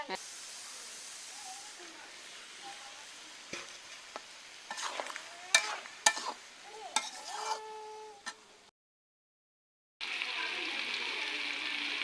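Boiled jackfruit frying in a pan for a vegetarian jackfruit curry, a soft steady sizzle with scraping stirs and clinks of a utensil, briefly cut out before the hiss returns louder.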